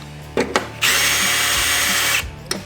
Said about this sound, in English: Now I'm gonna drill out our 3 holes.